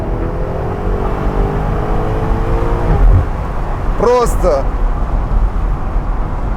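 A BMW M8 V8 convertible, top down and in M mode, accelerates with a rising engine note that sits under continuous talking, plus a brief whine partway through.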